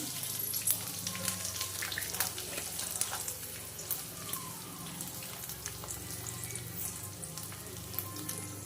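Coriander and jaggery frying in a pan for chutney, a steady crackling sizzle with sharp pops running throughout, loud and close.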